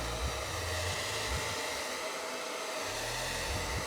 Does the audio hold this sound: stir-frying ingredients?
no